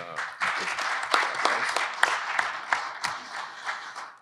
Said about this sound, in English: let's give a really good round of applause to our great panelists today